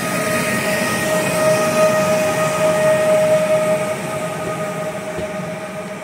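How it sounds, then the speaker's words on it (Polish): A Koleje Dolnośląskie Elf electric multiple unit pulls away from Tychy station, a loud, close rumble with a humming motor tone that eases slightly as the train moves off. "No i Elf rusza w dalszą drogę."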